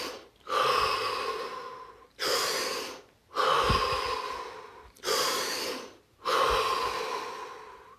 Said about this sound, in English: So take 3 deep, deep breaths.